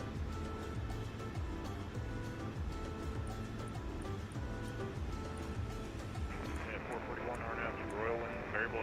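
Twin 757 jet engines spool up in a flight simulator, a steady low roar with tonal whine layered over it, rising in pitch near the end, heard under cockpit talk.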